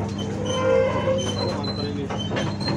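A KA Rajabasa passenger train rolls into Waiuba station and brakes to a halt, with a continuous rumble, metallic squeals and clanks close by, and faint voices in the background.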